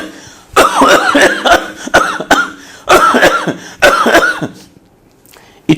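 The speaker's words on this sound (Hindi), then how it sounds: "जोर की फौरी तौर पर खांसी कीजिए" A man demonstrates forceful, deliberate coughing as an emergency heart-attack measure: a series of harsh, loud, close coughs in clustered bursts, with short pauses between groups.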